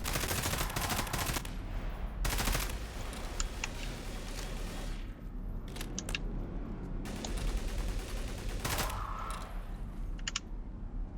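Heavy gunfire from big guns in a modded shooter video game: bursts of loud, rapid automatic fire in several volleys with short gaps between them, close and dominant, with no talking.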